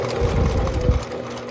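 A sewing machine runs steadily, stitching sew-in interfacing onto knit fabric with the interfacing side up, making a continuous low mechanical whir at close range with no voices.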